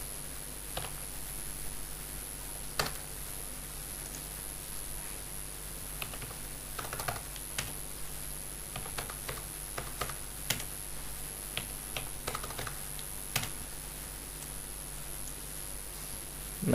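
Keys on a computer keyboard are pressed in scattered bursts while working in Excel, sharp close clicks and taps spaced irregularly over a faint steady hum, with no speech.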